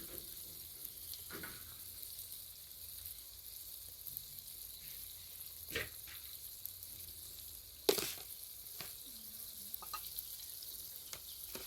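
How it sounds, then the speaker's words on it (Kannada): Dry fish frying in oil, a faint continuous bubbling sizzle with occasional soft clinks and one sharper knock near the end, no talking over it. "ನೋಡಿ ಫ್ರೆಂಡ್ಸ್, ಹಿಂಗೆ ಕುದೀತಿದೆ ಕುಟು ಕುಟು ಅಂತ"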